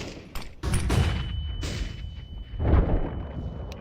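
A flashbang grenade detonates in a tactical shooter game, heard as a cluster of sharp, loud bangs and thumps over about four seconds, with a steady high ringing tone running beneath the blasts.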